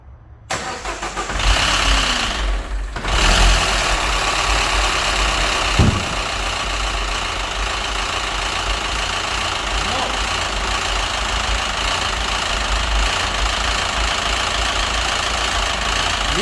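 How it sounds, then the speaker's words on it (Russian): A Citroen DS3 with a 1.6 engine cranks and fires up, then settles into a steady idle with a persistent rapid metallic knock from the faulty motor, heard close and loud. "Сейчас вот буду заводить при вас и послушаем, как поменяется звук мотора или нет."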